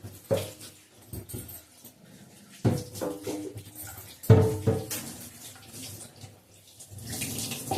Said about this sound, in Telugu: ఈ పీటకు శుభ్రంగా మనం నీళ్ళు వేసుకుని కడిగేసుకున్నాం కదా